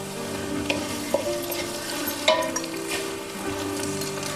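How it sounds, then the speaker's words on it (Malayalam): Cooked biryani rice being stirred and sautéed in ghee with onions, a low continuous sizzle with spatula scrapes and occasional clinks against the pot, close by with no talk. "അത് നമ്മൾ ഈ നെയ്യിലിട്ടൊന്ന് വഴറ്റും."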